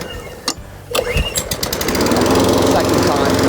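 A Cobra RM46SPC petrol lawn mower is pull-started, with a couple of sharp cord tugs before the engine catches and settles into a loud, steady running drone, close to the microphone.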